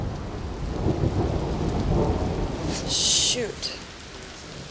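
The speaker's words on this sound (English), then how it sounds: "It's thundering quite a bit." Low thunder rumbles roll through a steady rain during a wildlife survey in Glacier, with a brief bird call and a short spoken exclamation over the storm.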